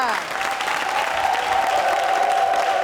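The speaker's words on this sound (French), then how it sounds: "Public, on va encore les applaudir." A studio audience at a televised reconciliation show breaks into sustained applause, a dense even roar of clapping with a sustained musical tone running underneath.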